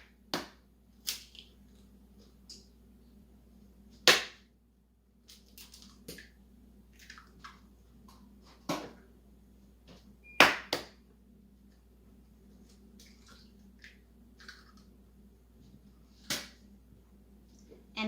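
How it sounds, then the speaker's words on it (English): Eggs crack for cake pop batter, several sharp taps and snaps spaced irregularly over a quiet kitchen background hum, some louder than others. "Crack in the 3 eggs."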